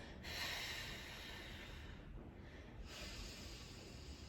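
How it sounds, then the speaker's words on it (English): Loud, airy breathing up close: a long forceful breath, a brief pause, then another long breath. "And you can breathe loud if you'd like to."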